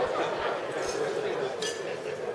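Glasses clinking together during a toast at a formal Hong Kong celebration dinner, light scattered chinks under crowd murmur and a voice speaking.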